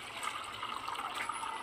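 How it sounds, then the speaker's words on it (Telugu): Water poured for washing, a brief soft trickling stream, close and quiet, with no voices. "మళ్ళీ ఇంకొకసారి ఆ వాటర్ పంపేసి మళ్ళీ వాటర్ పోసుకోవాలి."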